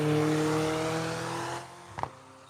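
A McLaren 600LT drives down a hill, its engine holding a steady droning tone that fades after a moment, followed by a couple of brief thumps, heard close with no talk.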